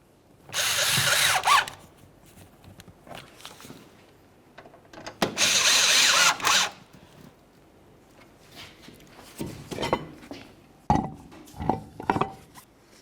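A power drill snugs up the fuel pump module mounting screws on a 2004-2015 Nissan Titan, running in two loud, sustained bursts. Shorter clicks and light clatter from tools follow.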